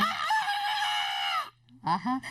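A mimicry artist's voice imitates a rooster crowing in one long, loud, close cock-a-doodle-doo, followed by a brief spoken remark.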